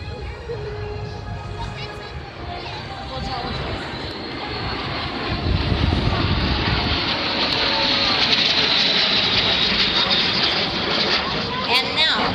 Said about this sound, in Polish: Widzą Państwo formację 4 samolotów oblatywanych w beczce przez 5.